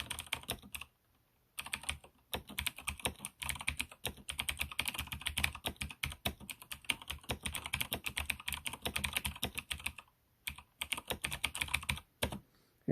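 Rapid, continuous clicking of keys on a computer keyboard, typed in fast bursts with a few brief pauses, close and clear.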